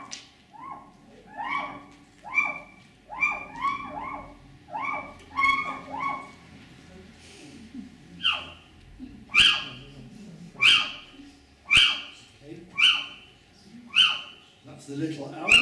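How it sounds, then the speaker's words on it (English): Recorded little owl calls: a run of sharp, yelping whistled notes repeated in quick bursts, then louder single piercing calls spaced about a second apart, fairly close and clear. "I'm going to play you some of the sounds made by these three different species of owl. The first one you'll hear is on your left,"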